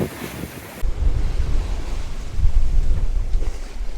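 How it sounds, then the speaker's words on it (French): Choppy ocean waves slosh and surge close by around a sailboat in two-metre swell on the open Atlantic between Lanzarote and Tenerife, mixed with strong wind buffeting the microphone; no one speaks. "On est là dans les vagues, beaucoup de vagues."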